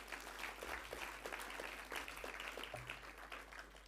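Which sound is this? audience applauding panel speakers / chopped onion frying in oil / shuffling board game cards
audience applauding panel speakers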